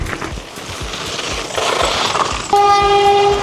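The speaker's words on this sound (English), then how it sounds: "I didn't even know that trains pass through here" A train rumbles past close by, then a loud, sustained horn blast cuts in near the end.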